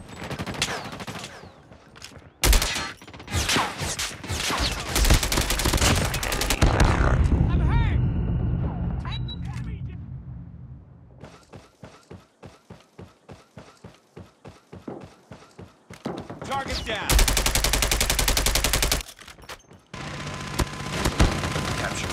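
An automated sentry gun fires in a Call of Duty multiplayer match: loud, rapid bursts of gunfire and dense battle noise, with a steady run of fast shots midway, among other game sounds and voices.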